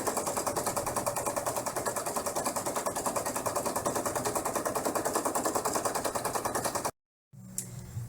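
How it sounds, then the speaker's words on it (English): An embroidery machine stitches the outline and roof detail of an in-the-hoop dollhouse bag, a loud, steady rapid mechanical clatter running continuously for about seven seconds before stopping abruptly, followed by faint room noise. "this will again stitch the outline and the cute roof detail all in one step"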